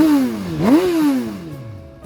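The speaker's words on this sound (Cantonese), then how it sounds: "而家聽一聽佢個引擎聲啦。" A Suzuki GSX-R1000R sportbike engine revs loudly up close, its pitch sliding down, climbing sharply in a quick blip, then falling away again as the idle settles.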